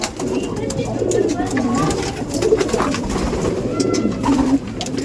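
Pigeons at a seller's place in Brebes, Central Java, give soft repeated throaty coos at close range, with people talking and background bustle underneath.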